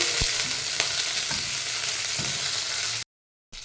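Garlic and curry leaves frying in oil over a low flame, a continuous close sizzle broken by light stirring taps, cutting to brief silence near the end.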